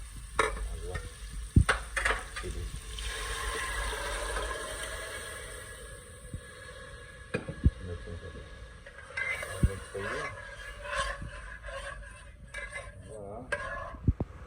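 Dal poured into a hot tempering with tomatoes for dal dhokli sets off a sizzle, followed by stirring and the clink of a spoon against the pot, with occasional sharp knocks.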